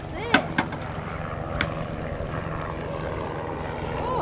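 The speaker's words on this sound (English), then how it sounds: "Sorry about the plane." Propeller airplane passing overhead above a boat on Florida waters, a broad droning engine rumble under voices and a few sharp clatters.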